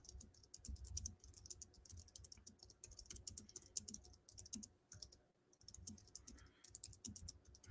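Quiet computer keyboard typing, a steady run of light rapid key clicks with brief pauses, close and alone without any voices.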